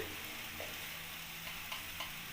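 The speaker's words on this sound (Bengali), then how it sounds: "ততক্ষণ আমি মশলাটাকে এইভাবে ভালো করে নাড়িয়ে চাড়িয়ে মশলাটাকে কষিয়ে নেব" Spice masala for dhaba-style matar paneer, seasoned with black pepper powder, fries in a pan with a steady close sizzle, while a spoon stirs it through with a few soft scraping bumps.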